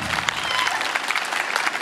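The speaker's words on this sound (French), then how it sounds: "On l'applaudit." A crowd applauds a fire brigade colonel at a firefighters' sporting gathering: brisk, dense clapping close by, loud and continuous over the short span, with a faint voice mixed in.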